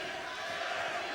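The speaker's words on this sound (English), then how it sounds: "he's rousing the crowd in support as well" Boxing arena crowd at the Stephen Ormond vs Derry Mathews fight cheering as the fighter rouses them, a steady dense wash of roaring voices held at even loudness throughout.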